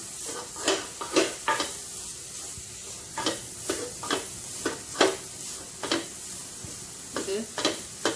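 Chicken being stirred into a sizzling masala in a pan: a rhythmic series of spoon scrapes and stirs over a constant frying hiss, close and fairly loud, with no talk.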